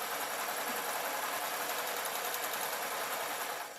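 A sewing machine runs continuously, stitching a seam on an artist's painting smock, a steady mechanical whir and rapid needle chatter that eases off right at the end.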